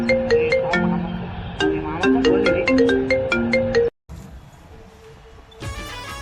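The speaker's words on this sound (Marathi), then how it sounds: "फोन कोणाचा वाजू राहिला?" A phone ringtone plays a bright repeating melody of chiming tones, loud and close, breaks off abruptly into near silence with a faint hum, then starts again.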